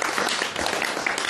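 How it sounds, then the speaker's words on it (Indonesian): Audience applause during an Indonesian-Javanese religious talk, a short dense patter of clapping that continues steadily without a clear end. "tepuk tangan ya."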